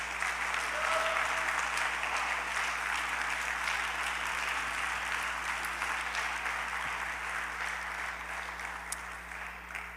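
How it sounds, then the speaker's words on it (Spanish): Steady applause from a church congregation fills the room, even and fairly distant, with a low electrical hum running underneath throughout. "denle un aplauso al Rey de Gloria."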